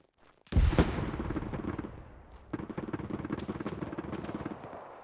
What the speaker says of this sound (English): It's a machine gun way up there.